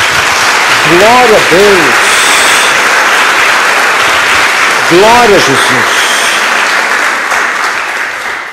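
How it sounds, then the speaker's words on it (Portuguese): A church congregation claps and cheers loudly throughout while a voice calls out over the noise, the applause swelling and holding steady. "Dê uma salva de palmas ao Senhor."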